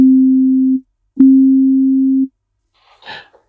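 Two steady pure tones for ear training, pitched about 30 cents apart, sound one after the other: a short held note, a brief gap, then a longer one, clean and alone, followed by a faint rustle.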